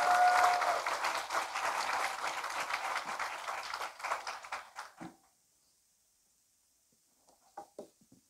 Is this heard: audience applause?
yes